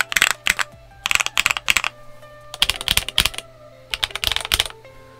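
Typing on a Redragon K617 Fizz mechanical keyboard fitted with a tape mod, PE foam mod and lubed switches, heard as close, crisp bursts of rapid keystrokes separated by short pauses over a faint steady hum.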